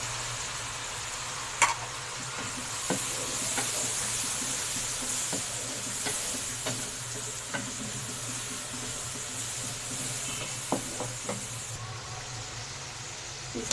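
Masala with red tomatoes and yogurt fries in a pan for aloo methi, giving a soft continuous sizzle with scattered faint ticks and spatters, fairly quiet and even throughout.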